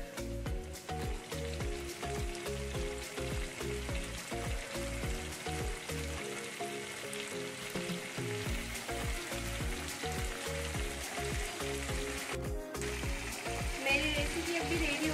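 Spiced lota fish curry frying in a pan over high flame sizzles and crackles steadily and close by, with occasional stirring scrapes throughout.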